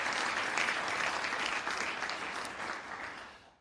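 A county audience claps steadily at a State of the County Address, a dense and fairly distant round of applause that holds level before fading out toward the end, with no talking over it.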